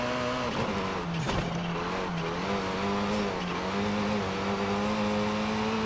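Hyundai Elantra engine heard from inside the cabin in Forza Horizon 5, a continuous droning engine note rising and falling with revs, with a brief tyre squeal, steady and loud, no talking.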